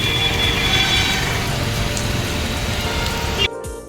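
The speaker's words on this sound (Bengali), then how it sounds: "বাইরে এখনও বৃষ্টি হচ্ছে" Heavy rain falls steadily outside, a dense continuous hiss and patter, until it cuts off abruptly just before the end.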